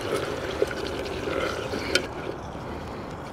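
Water poured from a pot outdoors during campfire cooking, a steady trickling splash running for a few seconds with small drips and clinks, fairly quiet and with no voices.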